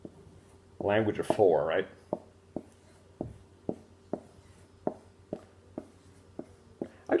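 A marker or pen draws a fraction diagram by hand in a quiet room, giving a steady series of short scratchy strokes in a regular rhythm, close by, after a brief burst of speech.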